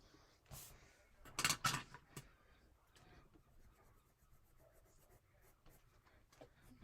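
Graphite pencil scratches and rubs across paper while refining a portrait, a few louder strokes early on, then soft, sparse scraping in a quiet room.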